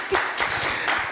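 Audience clapping at a panel program on Black women's mental health, a short, dense burst of steady applause at moderate volume.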